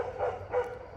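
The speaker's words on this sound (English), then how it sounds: "the dogs are freaking out because they could hear them" Dogs on a farm where chickens are being herded into the coop, giving two quick, fairly faint barks in succession.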